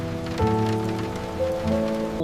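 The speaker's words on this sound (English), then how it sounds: "Rain on glass can hold attention gently without demanding a decision or performance." Steady patter of rain against window glass, close and continuous, with soft sustained tones underneath and no voices.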